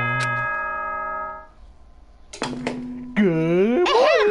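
The school announcement chime from the video game Danganronpa 2: Goodbye Despair, a bright multi-tone electronic ding-dong sounding at the start, followed by a character's voice beginning the announcement.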